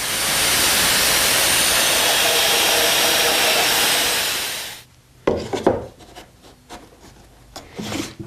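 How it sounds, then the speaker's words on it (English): A drill boring 35mm diameter holes in a wooden board for a chicken coop, a loud, steady grinding whir lasting several seconds before cutting off, followed by scattered knocks and scraping of wood. "drill 3 35mm diameter holes in one of the boards near the top"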